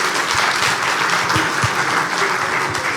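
Audience at a Middle East political and economic forum opening applauding the podium, a dense, steady wash of many hands clapping at close range without a break.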